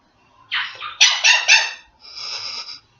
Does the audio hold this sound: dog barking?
yes